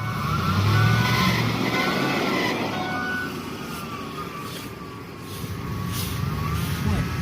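A whining Ford power steering pump gives off a thin, wavering whine that rises and falls over a continuous engine rumble, close and moderately loud, with no one speaking.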